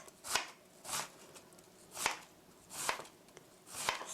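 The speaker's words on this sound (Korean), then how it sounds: "살짝 앞으로만 살짝 밀어주고 이렇게 해서 이렇게 썰어주시고요" A knife chops through an onion on a cutting board during mapo doufu preparation, five distinct, crisp chops spaced about a second apart, close and clear with no talking.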